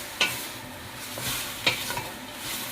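Meat for a soup being stirred in a hot pot, a soft frying hiss broken by a few sharp scrapes and knocks of a spoon against the pot, close by.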